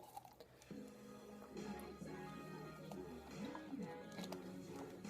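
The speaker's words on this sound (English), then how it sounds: "just gonna have a sip of water." Quiet, close sipping of water with soft slurps and wet mouth sounds, no talking.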